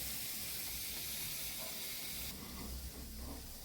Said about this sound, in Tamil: சிகப்பா மாறுற வரைக்கும் பொரிச்சிக்கலாம்